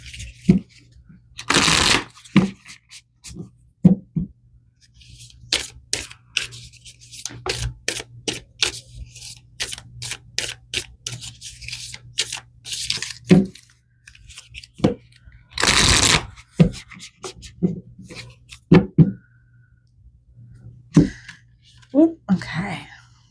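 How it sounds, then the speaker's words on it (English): Tarot cards are shuffled in repeated sharp riffling bursts, close and crisp, separated by short pauses with soft handling noises and a quiet voice in places. "Let's pull some more cards."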